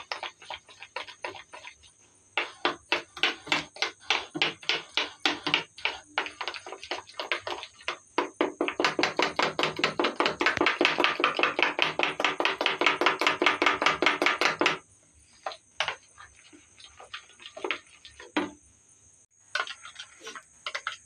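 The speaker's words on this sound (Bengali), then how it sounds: "আমি এটা ভালো করে ফেটিয়ে নিয়েছি, এটা ফেটানো হয়ে গেছে।" Green bread pakora batter beaten briskly in a bowl, a fast run of sharp, rhythmic ticking strokes in bursts with short pauses, loud and close, no talk.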